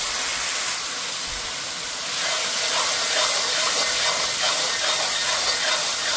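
Shrimp for Guyanese bunjal shrimp hit a hot pot, giving a loud, steady, dense sizzling hiss that swells slightly partway through.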